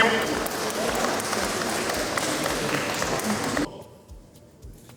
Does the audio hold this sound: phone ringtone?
no